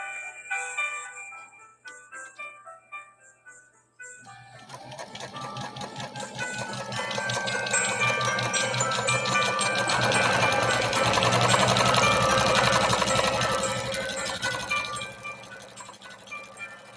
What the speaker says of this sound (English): here goes another stitch